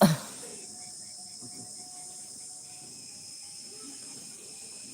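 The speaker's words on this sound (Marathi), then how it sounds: "किडे पहा कसे खेडेगावामध्ये" Insects chirp faintly and steadily in a village at night, a thin sustained buzz over a low hum. A short bump opens the clip, and soft voices are heard in the background.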